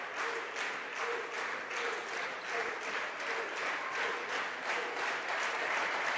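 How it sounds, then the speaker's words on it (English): A volleyball crowd keeps up rhythmic clapping and stomping, a steady pulsing beat of many hands and feet, fairly distant and even throughout, with no voices standing out. "clap and stomp going on."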